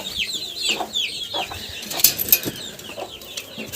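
Soft repeated clucking from a hen, close by, with a brief flutter of wings partway through and quiet farmyard background.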